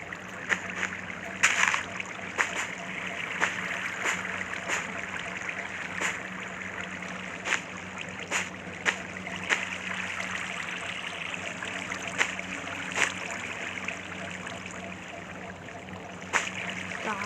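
Flowing water in Minecraft, a constant trickling rush that runs the whole time, dotted with sharp, regular clicks and short taps.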